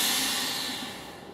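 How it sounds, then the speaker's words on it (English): A VacMaster 215C chamber vacuum sealer lets air rush back into its chamber after sealing, a steady close hiss that slowly fades over about a second and a half. "that sound you hear is actually the chamber filling back up with air"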